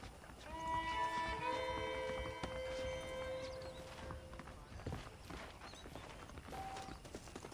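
Horse hooves clip-clop at a steady trot in the video game Red Dead Redemption, beneath a soft, layered game soundscape of tones and ambience, fairly quiet and continuous throughout.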